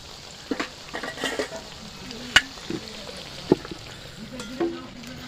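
Cabbage pakoras frying in oil with a continuous sizzle, punctuated by occasional sharp clinks and stirring scrapes from a utensil against the pan, close and unaccompanied by talk.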